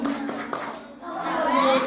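Children at an Islamic school Maulid Nabi event clap the tepuk anak soleh rhythm together while their voices chant over it, close and lively throughout.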